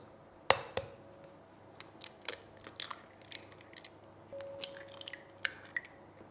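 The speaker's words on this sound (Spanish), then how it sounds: "cogemos un trapo y ponemos encima el bol y vamos a abrir dentro nuestros huevos" Eggs crack into a bowl resting on a cloth: a sharp tap followed by a scatter of small clinks and light knocks, close and fairly quiet, with no talking.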